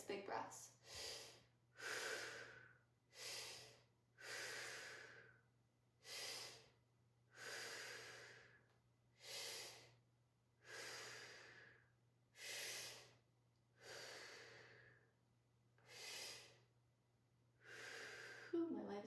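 Deep, slow breaths during a squat stretch, about eight long inhale-exhale cycles in a steady rhythm, close and airy with a low constant hum underneath.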